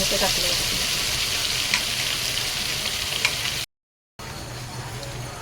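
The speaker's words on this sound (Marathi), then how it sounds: "हे लाल तिखट थोडंसं असं हलवून घ्यायचं जळून नाही द्यायचं जास्त लगेच त्याच्यात आपण हे जे वाटण आहे" Red chili powder and masala paste fry in a pan while being stirred, giving a loud, dense sizzle that runs almost unbroken, cut by a brief full silence near the end.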